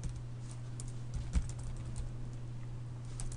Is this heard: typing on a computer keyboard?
yes